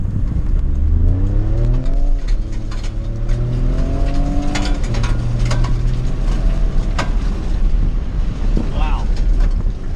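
A 2019 Ford Raptor EcoBoost truck runs fast in Baja mode, its engine note climbing and shifting through gears in repeated rising sweeps, loud and close under constant wind buffeting.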